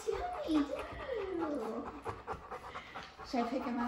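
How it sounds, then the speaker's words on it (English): Up close, a dog pants rapidly and steadily, mixed with faint whimpering, whiny tones. "Benny, you know Dash, you silly dog."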